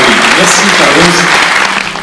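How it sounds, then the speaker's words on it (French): Loud, dense audience applause fills a room at a Lebanese wine evening in Neuilly, with voices mixed in, fading slightly at the end. "Je crois qu'on peut vraiment les applaudir"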